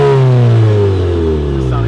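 A 2017 VW MK7 GTI with a Corsa performance exhaust in normal mode revs up loudly nearby, the engine note rising and then easing back as a deep drone, with a voice talking over it.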